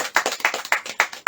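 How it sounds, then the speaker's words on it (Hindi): A congregation at a Good Friday church service claps hands in unison, five or six sharp, closely spaced claps in a steady rhythm, loud and near with no talk over them. "हालेलुया, ताली बजाएंगे सब।"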